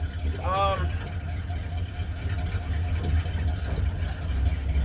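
A Ford Fairlane pulled from a scrapyard, starting a transmission test run on blacktop: a deep, steady engine rumble throughout, with a brief whining tone early on.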